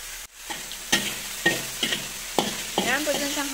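Scallions are sautéed briskly in a pan: a soft, continuous sizzle broken by several sharp, close taps and scrapes from a stirring utensil at irregular intervals.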